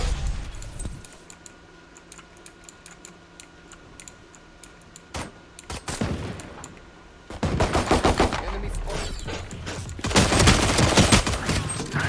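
Stinger gun fire in a video game: after a quiet stretch with a few isolated shots, dense bursts of rapid automatic gunfire erupt in two loud stretches, close and sharp.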